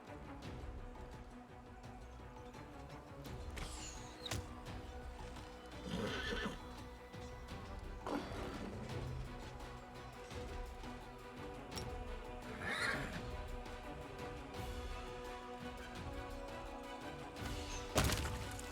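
Horses whinny several times in Pathfinder: Wrath of the Righteous, their neighs spread across a steady bed of game ambience with scattered hoof thuds and clops, moderately loud and unaccompanied by speech.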